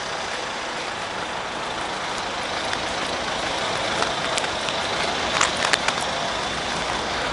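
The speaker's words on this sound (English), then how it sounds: "There's a lot of cars around here." Rotherham town centre traffic, with heavy vehicles like trucks or buses mixed among passing cars, makes a steady engine rumble. Scattered short hisses and clatters cluster near the end, and no one speaks.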